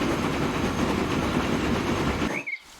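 Train rolling along a railroad in the Transport Fever 2 game, a steady broadband rumble with faint rhythmic wheel clatter that runs loud and continuous, then drops off abruptly near the end with a brief high whistle-like tone.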